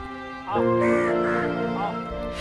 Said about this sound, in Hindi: कौवे आज दुर्लभ हो चुके हैं।